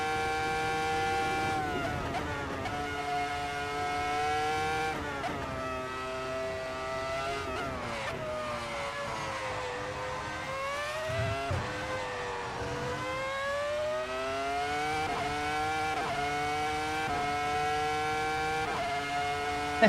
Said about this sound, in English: And I love the sound of this engine.